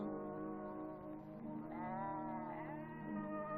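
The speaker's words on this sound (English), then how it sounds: "the goat herds which roam the slopes" A goat herd on steep, poor hillside pasture in 1960s Greece bleats in long wavering calls that overlap into a steady chorus, loud and close.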